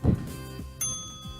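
A bell signals an interval during strength training, giving a single bright ding with a ringing tail, preceded by a low thump and followed by quiet room tone.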